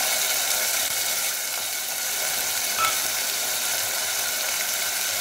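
Onion and garlic frying in hot oil with popped mustard seeds and urad dal for tomato thokku, a dense continuous sizzle throughout, close and steady, with no talking.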